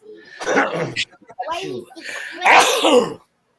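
A single loud sneeze bursts out close by, followed by a person talking.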